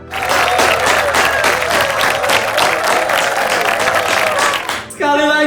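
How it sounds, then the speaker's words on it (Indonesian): Loud, sustained applause from a crowd for the bride and groom at a Balinese traditional wedding reception, steady clapping filling nearly the whole stretch with voices mixed in, cutting off near the end as music with a melodic tone begins. "beri tepuk tangan yang meriah untuk kedua mempelai kita malam hari ini"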